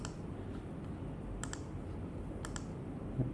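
Soft clicks on a MacBook trackpad or keyboard: a few faint, sharp taps in quick pairs over a low steady room hiss, no talking.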